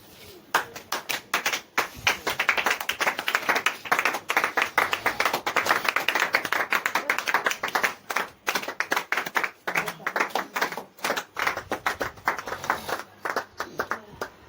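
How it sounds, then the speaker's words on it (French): A church congregation claps loudly and steadily in fast rhythm for about fourteen seconds as worship praise to God, with voices mixed faintly into the dense applause. "Lèvons-nous, acclamons fort pour notre Dieu"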